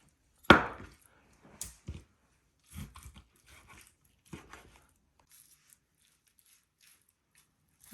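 Sharp knife cutting fat off raw beef, a few scattered close-up cuts and taps, with one louder chop at the start and long quiet gaps between.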